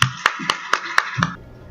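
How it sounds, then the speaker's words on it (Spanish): A conference audience applauds a speaker being introduced, with a short burst of about six distinct, loud hand claps in an uneven rhythm, fading out at the end. "Un aplauso, por favor."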